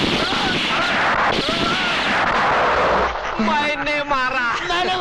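Gunfire in a comic Hindi film scene at a shooting practice session comes as dense, noisy bursts of blasts mixed with shouting voices throughout.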